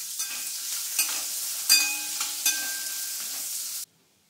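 Garlic and onion sizzle steadily in hot oil for a tempering, a continuous close frying hiss with a few sharper crackles and spoon-stirring knocks, ending abruptly in silence.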